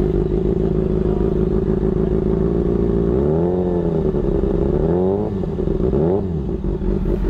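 Motorcycle engine with an aftermarket exhaust, revving up and down in several loud, rising and falling bursts over a steady idle rumble, close by, with no talk.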